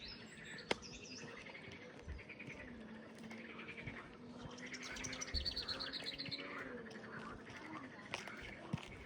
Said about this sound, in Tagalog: doon sa baba may mga ibon